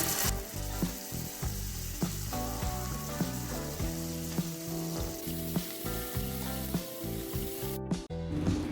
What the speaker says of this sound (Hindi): इसको हम ऐसे फ्राई पैन में रख देंगे।